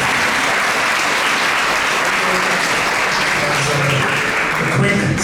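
An audience at an ISKCON Toronto temple talk gives a sustained round of applause for a speaker, a dense steady clapping from a large crowd that carries evenly from start to finish.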